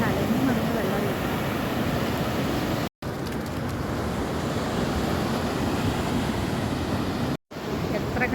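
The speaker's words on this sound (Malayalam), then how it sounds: "കടലിൽ തിര വരുന്നതും കടലൊക്കെ കാണുന്നത്" Sea waves rolling and breaking on Alappuzha beach in Kerala, the water churned and muddy, make a steady, loud wash of surf with wind buffeting the microphone, continuous apart from two brief dropouts.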